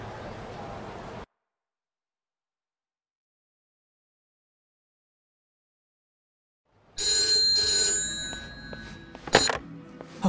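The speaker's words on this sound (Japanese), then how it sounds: "俺宛に電話がかかってきた" A telephone rings in a cutscene of the Yakuza: Like a Dragon video game, a bright, insistent electronic trill that starts loudly after a long stretch of silence and continues to the end, following brief murmuring background sound.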